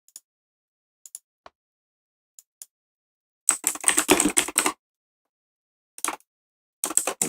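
Computer keyboard typing at a trading desk: a few isolated soft key taps, then a dense burst of rapid clattering keystrokes for about a second, followed by two more short flurries, close and crisp against near silence.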